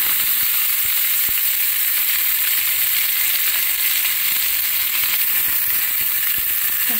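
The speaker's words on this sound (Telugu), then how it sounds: "కాస్త మెంతులు వేసాను. చూడండి, ఇవి కాస్త ఫ్రై అయ్యాక" Fenugreek and cumin seeds fry in hot oil in a pan, a loud, steady close-up sizzle with faint scattered crackles and stirring clicks, no talk.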